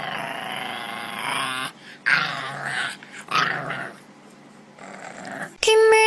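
Dog at an animal shelter growling and whimpering up close in several bursts separated by short silences, loud and throaty, with a sharp whine at the end.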